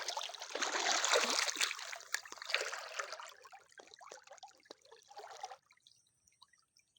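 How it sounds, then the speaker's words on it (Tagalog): Rushing stream water flows steadily and strongly for several seconds, then fades out, leaving faint trickling and drips. "Malakas ang tubig ngayon."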